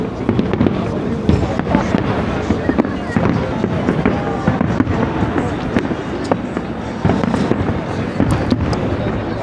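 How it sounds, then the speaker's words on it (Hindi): New Year's Eve fireworks over London, rapid rolling bangs and crackles that thunder almost nonstop, loud and dense, with crowd noise and voices mixed in throughout. "जारी है जनाब इस वक्त ये आतिशबाजी का सिलसिला।"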